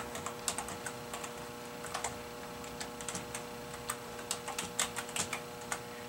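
Rapid, irregular keystrokes on a computer keyboard as an email address is entered at a sign-in page, close and clear with no talking.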